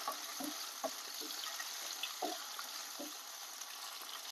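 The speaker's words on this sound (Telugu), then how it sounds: "సాఫ్ట్ అయ్యేంత వరకు ఫ్రై చేయాలి." Large pieces of tomato and green chilli fry in a pan, giving a soft continuous sizzle with a few quiet clinks and stirring knocks.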